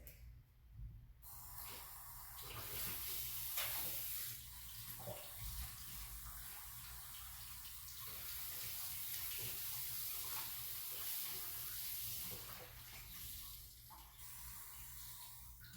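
Warm water runs steadily from a kitchen sink tap during baking, a continuous splashing rush that holds at an even level for the whole stretch with no talk over it.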